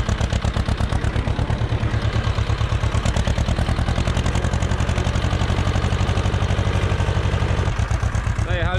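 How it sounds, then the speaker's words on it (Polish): A diesel Ursus tractor engine idles nearby while warming up, with a rapid, steady chugging clatter, running continuously and evenly for several seconds. "Akurat się ciągnik zagrzeje."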